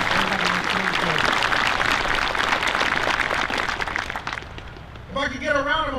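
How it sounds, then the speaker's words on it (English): Audience applause at the 2023 Marine Corps Base Quantico cake cutting ceremony, a dense roomful of clapping that swells, then thins and fades near the end as a voice comes in over the tail. "If you could join me in a round of applause"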